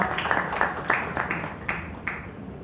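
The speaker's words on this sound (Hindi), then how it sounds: "प्लीज एवरीबॉडी जोरदार तालियों से स्वागत कीजिए श्री DS मिश्रा जी का" Audience applause greeting a senior government official, D S Mishra, at a housing and urban affairs event in India, a steady spread of many hands clapping at moderate distance that fades gradually.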